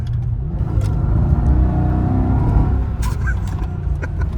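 A Mercedes E55 AMG engine accelerating hard under load, a loud, deep, steady rumble that builds as the car pulls, close and continuous with no talking.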